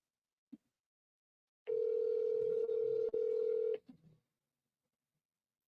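A steady telephone dial tone sounds for about two seconds on a live phone call, loud and unbroken apart from two brief dips, with faint clicks and a short voice fragment around it.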